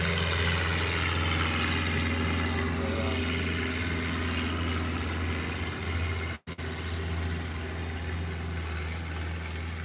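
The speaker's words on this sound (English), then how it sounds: "There goes the tractor." A tractor engine drives past near a fishing spot, a steady mid-pitched motor drone that stays loud and constant throughout, with one brief dropout near the end.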